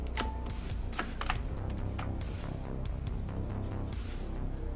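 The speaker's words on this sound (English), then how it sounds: "having a loud keyboard" Loud mechanical computer keyboard typed on steadily, a continuous run of sharp clacking keystrokes with no talking.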